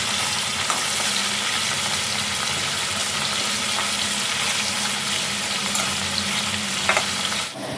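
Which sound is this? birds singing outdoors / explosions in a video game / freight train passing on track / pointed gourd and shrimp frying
pointed gourd and shrimp frying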